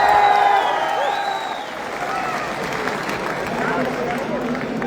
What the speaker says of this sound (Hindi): उत्सुकता झलकनी चाहिए आपकी तालियों के साथ।